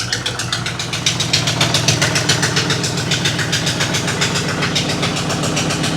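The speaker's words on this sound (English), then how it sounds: "I did go ahead and fire it back up just to let it warm up a little more." 390 V8 engine idling while warming up, carrying an exhaust leak at the front, giving a steady, loud, close rhythmic chuffing and ticking pulse that continues throughout without any talk.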